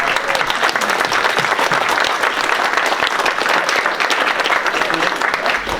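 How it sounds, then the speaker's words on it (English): A crowd applauds law enforcement officers at a public Q&A forum on crime, the clapping steady and dense from start to finish with no break. "I think we should all give them a round of applause"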